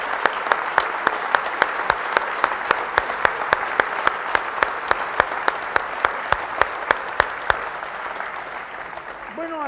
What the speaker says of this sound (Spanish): ¿Por qué no les damos un aplauso enorme a los compatriotas del norte